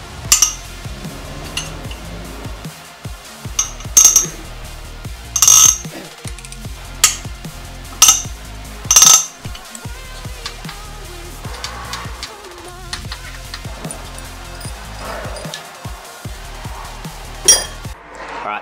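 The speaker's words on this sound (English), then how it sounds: "So that's all the head bolts out." Hand tools work loose the cylinder head bolts on an RB30 engine, giving sharp metallic clinks and ratchety taps at irregular intervals over a low background hum, with no talking.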